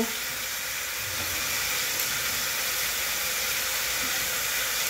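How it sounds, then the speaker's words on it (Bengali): Garlic fries in a pan over a low gas flame, giving a steady, even sizzling hiss that runs without a break and with no voices over it. "গ্যাসটা কম করে রসুনটা কিন্তু ভাজবে"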